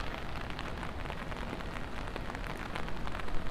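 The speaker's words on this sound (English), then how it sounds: "the rain is really picking up here" Heavy rain falling at night in Midtown Manhattan, New York City, a dense, steady hiss of drops hitting nearby surfaces, loud and continuous throughout with no voices.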